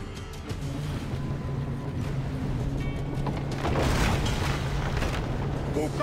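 Cannon fire and explosions during a ship battle in Assassin's Creed IV: Black Flag, a continuous loud roar of booms and rumbling blasts with a swell of heavier impacts midway.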